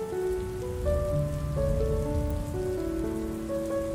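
Steady rain falls on a surface, a continuous soft patter blended with calm sustained musical tones, with no voices.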